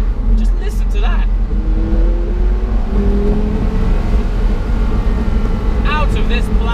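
A Porsche Carrera GT with a manual gearbox revs during heel-and-toe downshifts, a loud steady engine drone with rising and falling pitch sweeps, close and continuous beneath someone talking.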